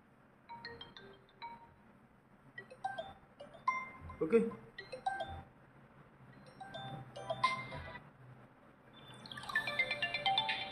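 Short electronic ringtone melodies from a Vivo T2 5G phone chime in bursts of bright beeping notes, with brief pauses between them and a quiet voice speaking.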